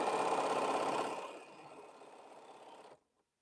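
A sewing machine runs quilt block seams, loud and steady at first, then dropping to a quieter continuous whir before stopping abruptly near the end.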